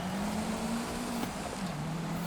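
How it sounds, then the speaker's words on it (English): Racing car engine in Forza Horizon, a Lancia in a seasonal championship race, droning steadily and loud throughout with a sustained tone that dips slightly as the car brakes hard into a corner; no voices. "Braking hard into this one."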